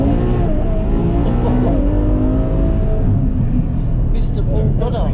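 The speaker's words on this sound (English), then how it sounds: "A Ferrari F12 in motion with none other than the OG of QuickSilver exhausts." A Ferrari F12 with its V12 fitted with a QuickSilver titanium exhaust drives past, its engine note loud and close, rising and falling through revs over a steady rumble.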